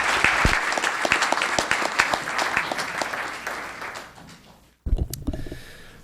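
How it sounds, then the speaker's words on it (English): A room full of people at a town council meeting claps, loud and dense at first, gradually fading out before a brief burst of renewed clapping and shuffling at the end. "One more time, let's give her a round of applause."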